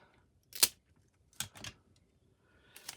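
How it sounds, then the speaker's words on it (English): Scotch long-lasting packaging tape is pulled and torn from its roll in three short, crisp rips spread across a quiet room, the first sharpest and loudest, the others softer and more drawn out. "I'm going to tear off a piece that goes here."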